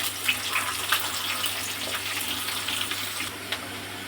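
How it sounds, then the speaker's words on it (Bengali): Chopped onion hits hot oil already holding whole tempering spices, giving a steady, close sizzling hiss dotted with small crackles, with no voices. "এইবার পেঁয়াজ কুচিটাও এর মধ্যে দিয়ে দেবো"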